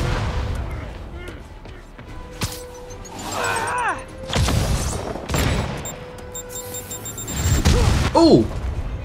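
Rocket explosions and gunfire in the Spider-Man video game, several sharp booms and bursts over a busy, noisy combat backdrop, with a voice talking at points.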